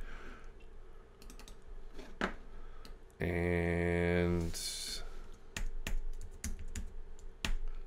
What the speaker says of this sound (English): I'm using the left and right arrow keys on an extended keyboard to find that precise frame.